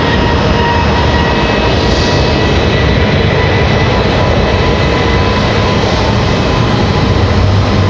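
An American Airlines Boeing 737 MAX 8 gets moving at Raleigh-Durham International, its engines giving a loud, steady roar that stays constant and close with no break.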